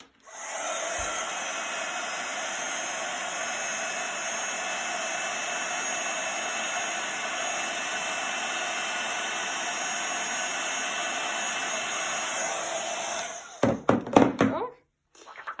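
A heat tool blows steadily as it melts embossing powder on a handmade Christmas card, a loud continuous whooshing hum that runs unbroken for a long stretch before cutting off amid a few quick knocks and handling sounds.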